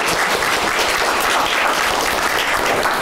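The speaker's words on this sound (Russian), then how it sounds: "Еще раз аплодисменты." Loud, dense applause from the audience at a master class given by an Honored Artist of Tatarstan, a continuous crowd clapping that holds steady and close throughout.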